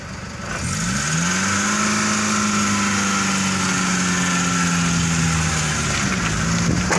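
A car engine drones steadily as the car creeps forward up a slope with the clutch being controlled, a close, loud hum rising slightly at the start, no talking.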